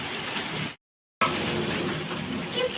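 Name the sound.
heavy rain with hail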